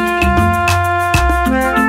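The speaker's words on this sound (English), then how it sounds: "When the time is up, there will be a buzzer which sounds like this." A quiz show's time-up buzzer sounds as a loud, sustained electronic tone with shifting pitches and rhythmic pulses, alone for about two seconds.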